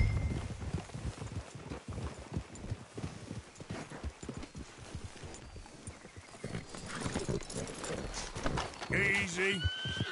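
Horses in Red Dead Redemption 2 clop along at a steady walk, hooves thudding in an uneven rhythm before a loud whinny near the end, with voices talking over the scene.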